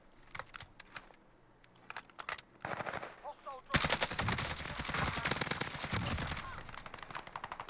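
Automatic gunfire in a video game as an aimed-down-sights weapon empties a whole magazine, a dense continuous burst of rapid shots after a few scattered earlier ones, loud and close.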